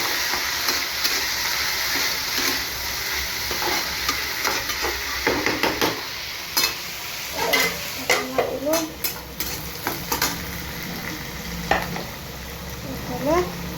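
Cabbage fries in a pan with a steady sizzle and hiss, broken by sharp clatters of stirring and scraping that grow busier toward the end, loud and close with no talk.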